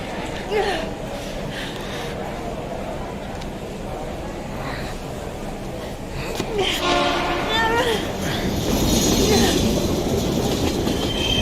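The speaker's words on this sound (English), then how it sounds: "We've got to get on that train, Ethan" A train rumbles past in the Heavy Rain video game, its wheels building into a loud rhythmic clickety-clack with faint squeals, while voices speak over the noise.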